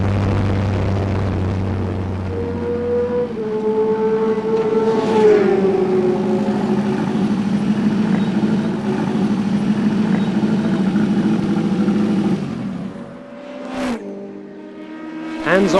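A Lotus 69 racing car rolls slowly down the pit lane at Snetterton, its engine note steady and close, then cutting out near the end, followed by brief knocks and scrapes.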